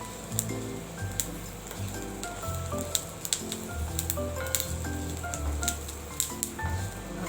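Mashed eggplant for baingan bharta sautéing with turmeric in a pan: soft, steady sizzling with moist squishy stirring and scattered light clinks of a utensil against the pan.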